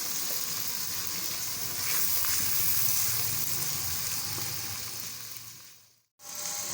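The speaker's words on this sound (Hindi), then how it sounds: "और हल्के हल्के तरीके से हम इनको भून रहे" Tomatoes, green chillies and ginger-garlic paste sautéing gently in a pan, a continuous close sizzle that swells in the middle, then cuts out briefly near the end before resuming.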